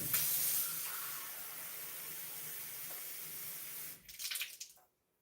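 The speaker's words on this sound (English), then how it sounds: "I need to put the 2 cups of water." Water pours steadily from a cup into a pot for cooking rice, a loud continuous splashing stream that tapers off and ends in a few drips after about four seconds.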